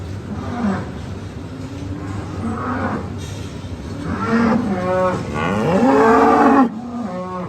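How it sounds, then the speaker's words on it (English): An old dairy cow on a farm lowing repeatedly, a series of long drawn-out moos that grow louder and more insistent, close to the listener against a faint outdoor background. "I absolutely love that old cow."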